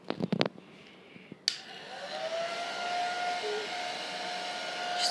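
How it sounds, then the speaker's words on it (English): A hair dryer starts up after a few sharp clicks and keeps blowing steadily with a whining hum, close and fairly loud, drying a painting. "we're just blow drying our paintings"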